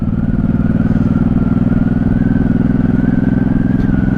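A 1983 Honda Shadow VT750C V-twin engine runs loud and close while the motorcycle is ridden, with a steady, throbbing rumble and faint whine, no speech.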